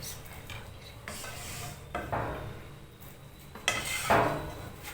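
Khoya and grated carrots are mixed in a pan for carrot barfi, with a series of quiet scraping and rubbing strokes of a spoon against the metal pan, each a second or so long, without speech.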